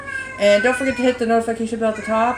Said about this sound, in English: And sorry about my cat in the background.